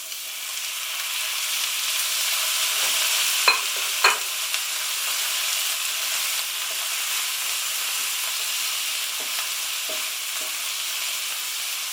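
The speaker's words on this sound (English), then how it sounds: "Then we're going to add the peas." Peas tip into a hot pan of cooking food and are stirred through, with a steady sizzle and hiss broken by a couple of sharp scraping clinks from the utensil.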